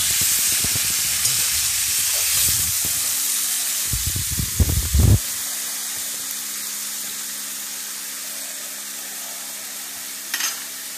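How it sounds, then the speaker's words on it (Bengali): Tangra fish frying in a pan for chorchori, a loud close sizzle and hiss with bursts of spatula scraping and stirring, then a quieter steady sizzle as it settles. "হালকা হাতে তাকে নেড়ে দিচ্ছি"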